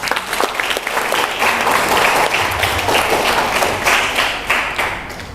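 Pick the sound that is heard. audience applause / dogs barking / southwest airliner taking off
audience applause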